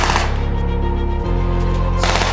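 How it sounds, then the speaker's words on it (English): Rapid automatic gunfire from a NATO battlegroup exercise in an Estonian forest, loud and close, sustained bursts that ring and echo through the trees. "Gunfire echoing through my own forests."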